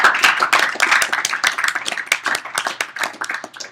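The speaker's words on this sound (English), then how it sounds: "Let's give Justin a round of applause." A small group at an alumni interview gives a round of applause, distinct individual claps in a quick uneven patter, close and moderately loud, thinning out toward the end.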